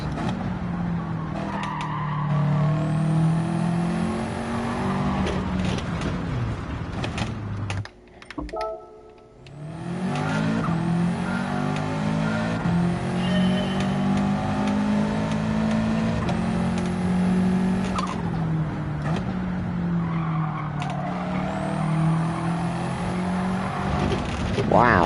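A race car engine in a driving game revs up through the gears over and over, whining higher before each shift, with a brief drop near the middle, while someone talks over it.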